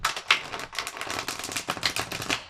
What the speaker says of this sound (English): Just going to waft those through there and shuffle them again